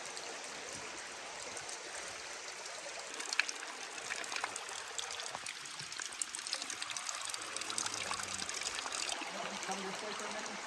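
Fresh water trickles and drips down moss on the North Coast, a faint, close patter of scattered drips over a soft continuous trickle.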